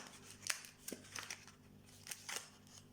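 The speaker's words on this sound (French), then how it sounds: "Et on ouvre la petite boîte." Opening a small Christmas gift box, a few faint scraping and crinkling sounds of cardboard and paper, with soft taps in an otherwise quiet room, close up with no talk.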